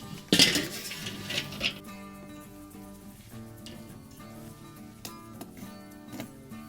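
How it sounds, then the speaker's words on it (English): Beef rib fingers are laid on the metal grate of a kettle grill set for low smoking, giving a few close clinks and scrapes of metal at first, then quieter handling sounds over music. "let's go ahead and place on our beef finger ribs"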